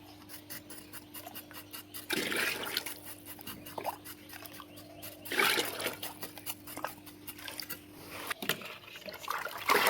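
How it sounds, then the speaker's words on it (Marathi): Watery cement slurry is poured and spread while laying floor tiles at a farmhouse, heard as wet splashing and scraping bursts between quieter stretches under a faint steady hum. "हे सिमेंटचं पाणी आहे."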